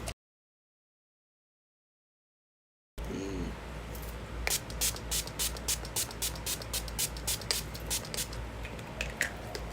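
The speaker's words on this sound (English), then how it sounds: "I ain't even spray my face." After near-silence, a makeup setting spray hisses across a face in a quick string of short spritzes, close and fairly loud, with no one speaking.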